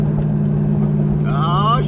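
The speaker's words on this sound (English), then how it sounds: "What I'm gonna do is take this car for a drive and see if the cruise control works." A Chevrolet C5 Corvette, lately fixed for a P0704 check-engine fault, cruising on the road with a steady, close, low engine drone and a voice briefly talking over it.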